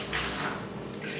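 A hand shower sprays water at full force while a fish tank is being cleaned, a steady close rushing hiss without a break.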